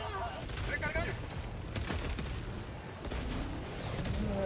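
Video game grenade explosions, a rumbling barrage of booms and gunfire-like blasts running continuously with a muffled, dense texture, mixed under game sounds.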